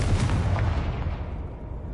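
A Confringo fire spell explodes in Hogwarts Legacy as a deep booming blast with rumbling low end that fades out over about two seconds.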